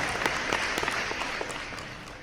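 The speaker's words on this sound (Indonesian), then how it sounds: "Tepuk tangan ya." Dense, steady applause from an audience at a regional assembly meeting in Jakarta, many hands clapping together and tapering slightly at the end.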